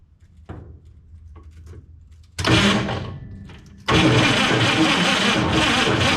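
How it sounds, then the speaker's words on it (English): A 1950 Chevrolet 3100 truck, revived after ten years unused, cranks after a few faint clicks, then its engine catches and runs loud and steady close by. "gonna hook up the battery and see if she cranks"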